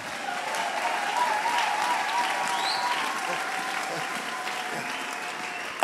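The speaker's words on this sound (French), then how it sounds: "Acclamons le Seigneur." A church congregation claps together in sustained, dense applause that holds steady throughout, with a crowd murmur underneath and a short voice cutting in at the very end.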